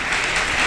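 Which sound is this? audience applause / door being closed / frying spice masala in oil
audience applause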